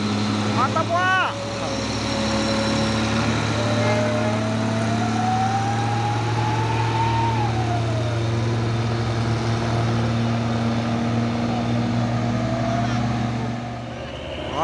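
A Hino 500 trailer truck climbs a steep uphill road, its engine droning steadily and loudly throughout, with a rising and falling whine from the drivetrain and a brief horn-like tone early on; someone speaks over it.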